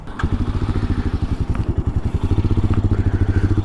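A Royal Enfield Himalayan motorcycle rides along with a loud, close engine thumping in a fast, even pulse that holds steady throughout.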